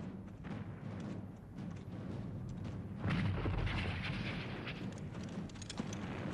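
Artillery cannon fire on a Napoleonic battlefield at Waterloo, a dense continuous rumble of distant guns and booms with a heavier swell of blasts midway, no clear speech over it.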